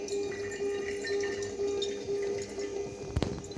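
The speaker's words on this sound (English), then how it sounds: "we will remove water from the fuel tank like this. The water will be collected in this conical flask." Water drains in a steady, low trickle from the tank of a membrane filtration setup into a conical flask, with a brief sharp clunk near the end.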